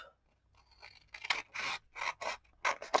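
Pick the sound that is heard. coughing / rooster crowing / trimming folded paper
trimming folded paper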